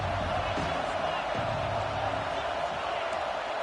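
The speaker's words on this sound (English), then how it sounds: "This crowd ready to make its presence known." Dense, steady stadium crowd roar from the College Football 26 video game, a loud continuous wash with faint thumps, running under commentary throughout.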